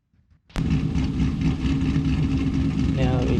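A turbocharged drag car with a big single turbo in BeamNG.drive, its engine bursting to life and holding a loud, rough, steady drone after a brief quiet start.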